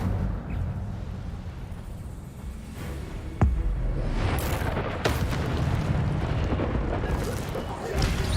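Incendio fire spell cast in Hogwarts Legacy, a sharp burst near 3.4 seconds followed by a dense roaring crackle that continues under a constant game soundscape, with a second flare around five seconds.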